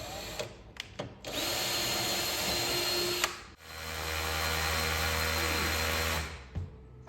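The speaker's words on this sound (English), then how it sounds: "it says to drill holes, so I'm gonna just put some small ones so I don't put too big a one in." Power drill boring small pilot holes into awning rods for a slide topper awning, two sustained whining bursts of a few seconds each separated by a short pause, close and loud with brief taps at the start and end.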